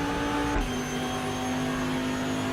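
A race car accelerates hard out of a corner at Road America in the Raceroom racing game, a steady loud engine drone holding a high rising pitch with a brief blip near the start, no talking.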